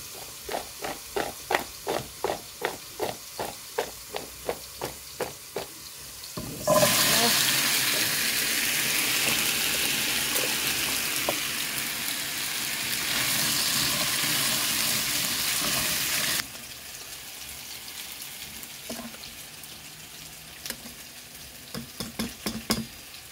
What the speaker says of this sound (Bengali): কচুগুলো একটু ভাজা দিয়ে দে।